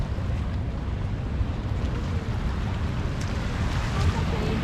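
Lake Michigan water washing up onto the Chicago lakeshore, a steady broadband rush of surf mixed with wind buffeting the microphone, continuous and fairly close throughout.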